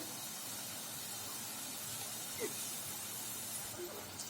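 Potato chip slices frying in hot oil in a pan over a medium flame, giving a steady, soft broadband sizzle and hiss throughout with a few faint pops, close and even.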